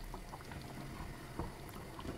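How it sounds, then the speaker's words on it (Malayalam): A pot of mutton dish with milk dumplings bubbling as it comes to a boil, a soft continuous gurgle and simmer close by with no talking. "ഇനി ഇതിങ്ങനെ തിള വരുമ്പോൾ ഓഫ് ചെയ്യാം"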